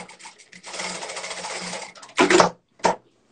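A sewing machine stitches a double-sided fabric cat tote bag, running in a steady whirring burst for over a second, then two short separate bursts after brief pauses, close and clear with no talk.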